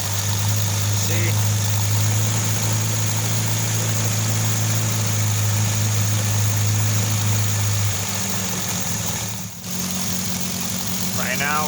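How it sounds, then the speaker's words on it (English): A 1988 Nissan Sentra with an E16i engine idles with a steady low drone, surging up and down from an idle fault, dropping in pitch partway through, followed by a brief dropout, with faint talk near the end. "Idling up and down."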